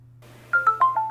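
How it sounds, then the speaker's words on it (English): A phone notification chime in a quiet setting: four bright, rising-and-falling tonal blips in quick succession, close and clear over a faint steady low hum, with no talking. "I get a notification and reach into my pocket"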